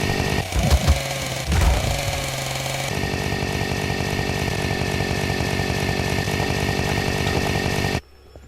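A chainsaw weapon in the video game Scramblemod gives a loud, continuous buzzing whine that runs for several seconds after a few rough revs and chopping bursts, then cuts off abruptly near the end.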